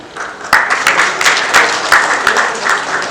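An audience at a film teaser launch event claps loudly and close, with sharp individual claps standing out over the crowd's dense applause.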